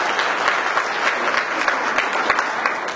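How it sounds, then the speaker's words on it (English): Audience at the Danbury NAACP annual gala breaks into a round of applause, dense steady clapping from a sizable crowd that stays even and moderately loud throughout, with a few sharper individual claps standing out. "let's give him a round of applause anyway"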